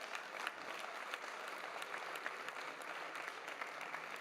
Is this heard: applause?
yes